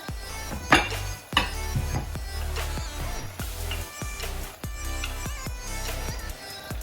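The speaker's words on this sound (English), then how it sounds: "Okay, so I'm ready to add the vegetables now." Vegetables go into a simmering pot of tomato and onion: loud metallic clanks and knocks of a spoon against the pot, a few sharp hits, then a steady run of scraping and stirring.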